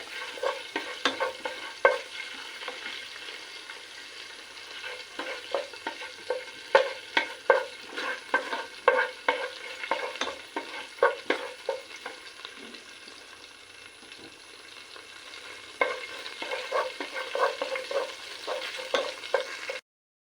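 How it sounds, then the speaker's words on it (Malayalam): A small amount of fenugreek seeds fries in leftover fish-frying oil, close crackling and sizzling with a busy stream of spatula scrapes and taps throughout, easing briefly and then picking up again. "ആ എണ്ണയിലാണ് നമ്മളിത് കുക്ക് ചെയ്യുന്നത്. അതിലേക്ക് വളരെ കുറച്ച് ഉലുവ"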